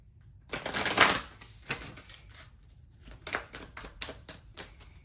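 Cards from an angel number oracle deck shuffled and drawn by hand during a tarot reading: a dense burst of riffling around the first second, then scattered soft taps and flicks, close and fairly quiet.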